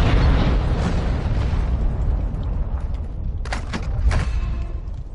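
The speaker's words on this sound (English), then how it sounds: "I put a cluster mine down below us, by the way." Cluster mine explosions in the Warzone video game come as a dense, loud run of booms and rumbling blasts. Sharper cracking bursts sound near the end.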